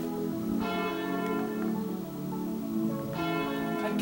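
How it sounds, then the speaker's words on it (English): A church bell cast in 1610 rings out as it is pulled, with two full strikes whose rich, sustained harmonic tones overlap and hum on through the gaps between them. "I can't believe I'm ringing something older than the Liberty Bell."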